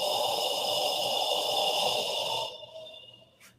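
A person exhales a long, guttural breath from the back of the throat as a qigong exercise, close up, then trails off into a softer, fading breath with a brief sniff at the end.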